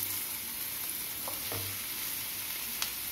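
Onions and cabbage fry in a pan for veg Manchurian: a steady, close, hissing sizzle with a few soft stirring scrapes and no talking.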